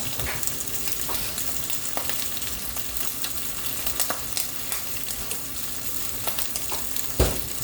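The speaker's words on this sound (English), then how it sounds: "I think I'm going to go ahead and get that other patty and stick it on in there." A hamburger steak patty sizzles steadily in a hot pan, a constant close crackle with occasional pops and a louder scrape or clatter near the end, without any talking.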